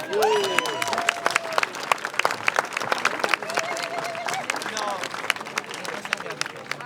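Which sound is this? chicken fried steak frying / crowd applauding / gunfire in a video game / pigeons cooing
crowd applauding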